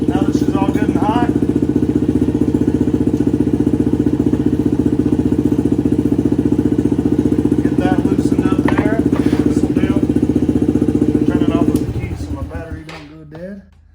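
A Honda ATC70 fitted with a CRF110 engine idles while warming up, a steady close putter with someone talking over it, then the engine cuts off and winds down near the end.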